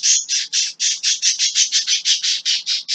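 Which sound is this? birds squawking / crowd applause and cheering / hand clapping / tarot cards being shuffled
birds squawking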